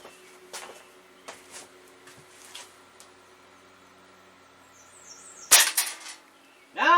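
A Beeman QB78 .177 air rifle firing a modified Hyper pellet gives a sharp, loud crack near the end, preceded by quiet mechanical clicks of loading and followed by a short metallic ring.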